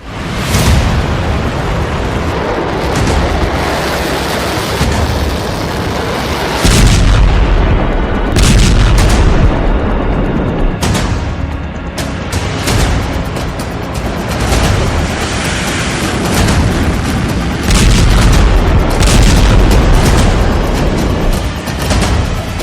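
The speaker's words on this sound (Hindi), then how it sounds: "बेरूत में भीषण धमाके" Heavy, repeated booming blasts from explosions in Beirut roll out over a continuous rumble, loud and distant-sounding, with no speech.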